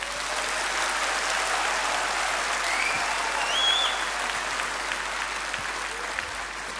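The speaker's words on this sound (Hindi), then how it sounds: "एक बार त्यागी जी के लिए कसकर ताली बजा दो" Sustained, dense applause from a crowd at a women's conference, many hands clapping steadily and strongly throughout, with a faint whistle-like tone over the top.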